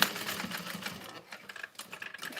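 A sewing machine runs in short bursts while stitching an Olive Vanity Bag, a steady mechanical whir at moderate volume that pauses and restarts toward the end.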